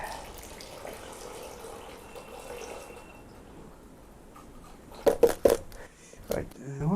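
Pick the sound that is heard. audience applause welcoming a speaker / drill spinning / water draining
water draining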